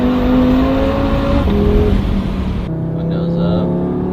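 A car with an aftermarket downpipe exhaust, over 170 horsepower, heard from inside as the engine drones steadily under load, the pitch rising, dipping at a shift, then settling into a lower hum.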